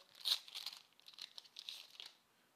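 A Panini Adrenalyn XL Euro 2020 football card booster pack being torn open by hand, a close, soft series of crinkling rips and crackles of foil wrapper over about two seconds.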